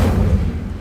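An Incendio fire spell cast in a Harry Potter video game: a short, loud, low whooshing burst of flame that fades within a second.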